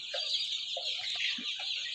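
Young Egyptian Fayoumi chickens, about 36 days old, cluck in a poultry shed packed with over a thousand birds; short, repeated clucks sit over a dense, steady chatter of the flock.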